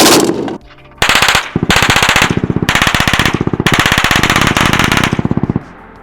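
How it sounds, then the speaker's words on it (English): A PKM machine gun fires several loud, close bursts of rapid automatic fire, the bursts separated by brief pauses and ending in a final burst of evenly spaced shots. "I'm very impressed by the cyclic rate, the report, the sound of the gun"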